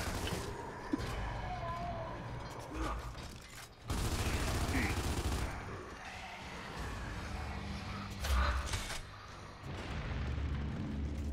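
Gunfire in the Gears of War 2 video game: bursts of shots and heavy booming blasts come and go over a dense battle din, with people talking over the action.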